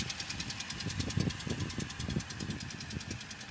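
A Toyota Corolla with a 3GR 2.0 engine runs with a rapid, regular knocking over its idle hum, steady and close, with no talk.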